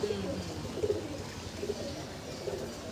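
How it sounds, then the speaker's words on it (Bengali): A Kaldom pigeon cooing close by, several soft low coos repeating at intervals over a quiet, slightly noisy background. "এই হচ্ছে কালদম"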